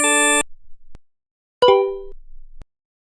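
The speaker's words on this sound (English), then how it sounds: "I'm going to go back to playing video games on my cell phone." Mobile video game sounds from a cell phone: a brief buzzy tone, a few small pops and clicks, then a bright metallic ding that rings and fades, ending in a click, with silence between.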